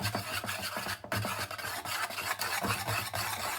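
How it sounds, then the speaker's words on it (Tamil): Beaten egg and powdered white sugar for brownie batter being blended in a bowl, a steady close rasping, rubbing scrape with quick repeated strokes throughout, no voices. "இப்போ வந்து இது நம்ம நல்லா பிளெண்ட் பண்ணணும்"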